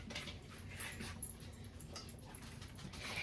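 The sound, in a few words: dog whimpering while its dinner is prepared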